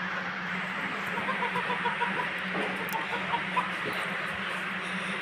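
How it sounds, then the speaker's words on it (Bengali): Chickens on a small rooftop farm cluck in soft, repeated bursts over a low steady background hum, fairly close but quiet, with no talking. "এই যে আমাদের ছোট্ট খামারের মুরগিগুলো বড় হয়ে গেছে।"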